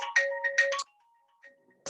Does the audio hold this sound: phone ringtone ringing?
yes